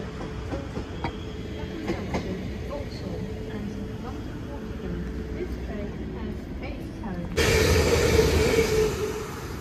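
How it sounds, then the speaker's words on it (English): A passenger train on the London Waterloo service from Guildford via Epsom approaches Raynes Park station, starting as a distant low rumble with faint rail clicks, then swelling abruptly into a loud, close roar near the end; someone talks over parts of it. "There comes the 1655 to London Waterloo from Guildford via Epsom."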